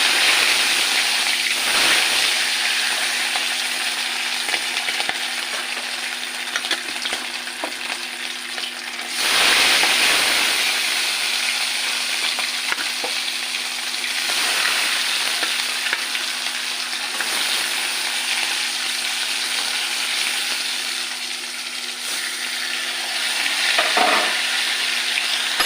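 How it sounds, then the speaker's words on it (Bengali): Hilsa fish pieces fry lightly in hot oil, a loud, continuous close-up sizzle with crackling spatter and a few scraping stirs, swelling briefly around the middle. "মাছগুলো হালকা করে ভেজে নেবো"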